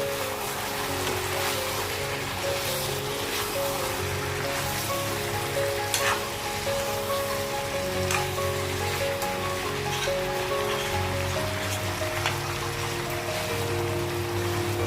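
Paederia foetida paste frying in oil for Assamese-style chicken, a steady close bubbling sizzle and crackle that holds evenly throughout with no voices.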